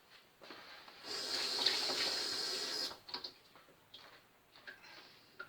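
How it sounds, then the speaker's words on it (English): Water runs from a tap for about two seconds as a sponge is dampened, a steady hiss that stops abruptly, followed by soft wet squeezes and light handling clatter nearby. "Right, so just dampen the sponge a bit."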